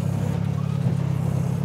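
A turbo Ecotec engine drives a single-seat, rear-steer rock crawler, giving a loud, close, steady throbbing drone with a rapid pulsing rhythm and no clear rise in pitch.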